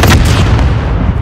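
In the Call of Duty Modern Warfare game, an artillery strike lands with a heavy, loud boom and a deep rumbling blast that fades over about a second.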